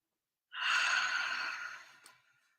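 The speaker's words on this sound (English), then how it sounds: "Breathing in." A single deep breath drawn in during a grounding meditation, a soft, breathy rush lasting a second and a half that slowly fades out, close and fairly quiet, with no talking.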